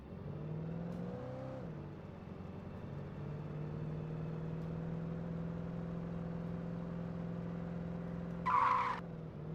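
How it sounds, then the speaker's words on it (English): A car's engine drones steadily in Alan Wake Remastered as it drives along, shifting pitch briefly, then a short, sharp tire skid squeals near the end. "Back in the car to drive more."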